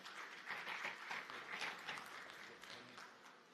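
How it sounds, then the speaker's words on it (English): A conference audience at the Afreximbank annual meetings applauds to welcome a panel speaker, with a soft, distant wash of steady clapping that fades slightly toward the end. "Let's welcome him with a round of applause."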